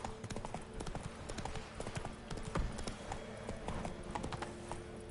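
Roach the horse gallops in The Witcher 3 on PS5, making a quick rhythmic clip-clop of hooves that runs steadily throughout at moderate volume, with faint ambient game sounds underneath.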